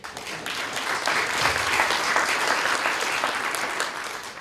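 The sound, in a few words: sustained applause from congress participants in auditorium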